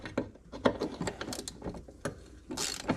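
Hand ratchet working a 10 mm headed bolt loose on a Ford 5.4 3V engine, producing close, crisp clicking bursts in an irregular series of short strokes, with no talking.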